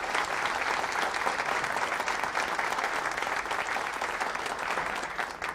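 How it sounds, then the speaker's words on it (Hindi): Audience at a talk clapping loudly together in a steady, dense wash of applause that holds evenly throughout, with no voices over it. "ताली बजाइए जोर से आप लोग।"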